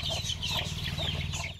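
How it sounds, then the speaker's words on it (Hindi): Several chickens, including roosters of a tiger-line breed, cluck and chatter together nearby in a continuous busy flock sound, with no talking. "ये तीन मुर्गे हैं, ये अपना टाइगर लाइन का मुर्गा है"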